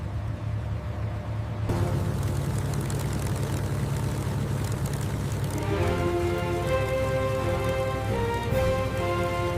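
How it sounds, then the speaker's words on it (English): Restored North American P-51 Mustang in flight, a steady heavy propeller-engine drone that intensifies partway through, with strong rising harmonic tones as it passes close. "The Mustang takes to the sky once more, a gleaming testament to history."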